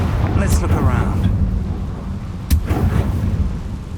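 Confringo fire spell blast in Hogwarts Legacy on PS5, a rumbling fiery explosion with a sharp crack partway through and continuous low roar throughout.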